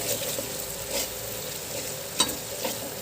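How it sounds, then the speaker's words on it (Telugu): Mutton sizzles steadily in a pan with masala and garam masala while being fried Andhra style, with occasional stirring scrapes and a sharper clink of a spoon against the pot. "గరం మసాలా అవన్నీ వేసి ఫ్రై చేయాలి. మంచిగా ఫ్రై చేసి"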